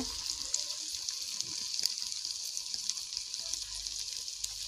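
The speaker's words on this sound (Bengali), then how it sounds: "এইবারে জল দিয়ে এটাকে বেশ করে একদম কষবো।" Water poured into a pan of ground spice paste (cumin paste and garam masala) while cooking masala jackfruit with prawns, a steady hissing splash running throughout at close range with no talk.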